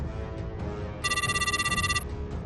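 A telephone ringtone chirps in a fast trilling burst for about a second, sounding over a low background bed.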